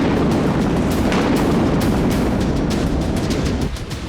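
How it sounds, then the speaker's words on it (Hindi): A gas tanker explodes in Aden, Yemen, heard as a dense sustained roar of blasts and crackling bangs, loud and continuous, easing slightly at the end. "ये धमाका यमन के अदन में हुआ।"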